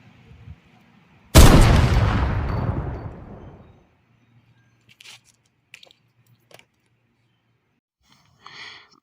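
A single loud gunshot from a police officer's gun in a horror short, a sharp blast with a long decaying tail, followed by near silence with a few faint small clicks and rustles.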